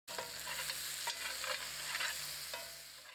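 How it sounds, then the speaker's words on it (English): Oyster mushrooms coated in jerk seasoning warm in a pan, giving a continuous close sizzle with a few soft stirring clicks, no voices present. "And we just let those mushrooms warm up."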